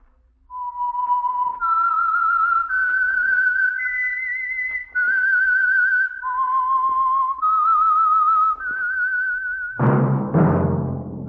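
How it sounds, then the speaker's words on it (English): A whistled signal tune for The Whistler radio program, a clear melodic phrase of sustained notes stepping up and down, heard alone and close, followed at the end by a brief burst of orchestral music. "That whistle is your signal for the Signal Oil program, The Whistler"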